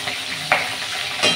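Hilsa fish frying in hot oil gives a steady, soft sizzle, with two brief brighter hisses as pieces settle into the pan.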